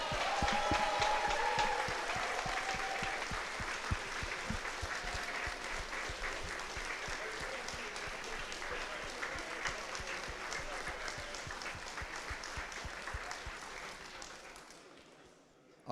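Audience applause at a world championship, a sustained wash of clapping that starts full and slowly thins and fades out near the end.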